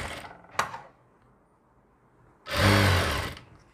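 A sewing machine stitches pads onto a kameez in short runs: a brief burst near the start, a quiet stretch, then a louder sustained whirring run of about a second that tapers off. No one talks.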